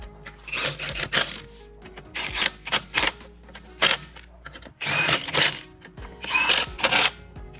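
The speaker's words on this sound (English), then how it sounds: "you take your impact and you torque them down" An impact wrench tightens lug nuts on a 2008 Toyota Camry, firing in sharp, rattling bursts of about half a second, with short pauses between them, close and fairly loud.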